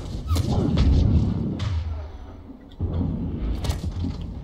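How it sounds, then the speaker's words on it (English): Grenades explode in the Mass Effect 3 video game, two heavy booming blasts with rumbling tails, the second following a brief lull, loud and close with no talking. "Stupid fucking grenades."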